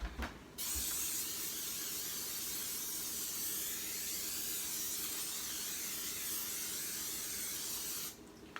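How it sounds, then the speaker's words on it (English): Cooking spray hissing into a 9x13 cake pan for cinnamon rolls, one long continuous close spray lasting around seven and a half seconds, steady and fairly loud, with no talking. "use a 9x13 cake pan, and I'm going to put some spray in it."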